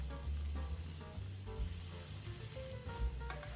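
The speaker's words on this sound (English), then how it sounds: "cook the onion until the sauce comes to a boil" Sliced onion simmers in dashi sauce over medium heat, giving a steady close sizzle and bubbling with a low hum underneath, moderately quiet and continuous.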